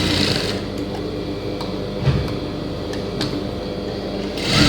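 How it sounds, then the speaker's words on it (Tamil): A sewing machine stitches a blouse, running close and steady in a fast mechanical whir with ticking at the needle and brief pauses and restarts between runs, with no voices. "அப்படியே திருப்பி மேலே ஒரு தையல் போடுறோம்"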